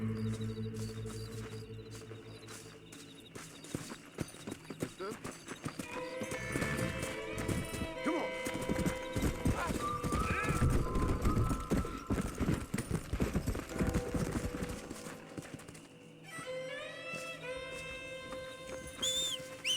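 Horse hooves clip-clop at a trot with a few whinnies and neighs in the Red Dead Redemption video game, mixed with game music and other effects, moderately loud and busy throughout.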